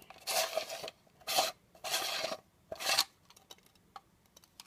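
Threaded filter cap unscrewed on a U.S. M45 Air Warrior gas mask: four close, quiet gritty rasping turns in a steady rhythm, followed by faint small ticks.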